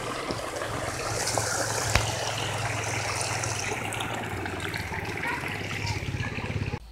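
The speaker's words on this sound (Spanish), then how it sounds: "Vamos a cruzar por el agua." Water trickles and splashes steadily as someone crosses a stream near a small stone mining village in La Carolina, San Luis, with faint voices and outdoor ambience underneath.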